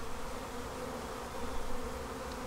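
Honeybees buzz steadily around a hive frame being drawn out with comb, a dense continuous hum close by with no talking.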